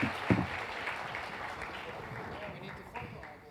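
A conference audience gives a round of applause for startup-ecosystem panelists, a short burst of scattered clapping that gradually thins and fades, with some voices underneath.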